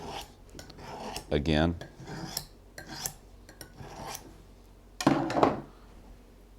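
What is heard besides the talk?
knife being sharpened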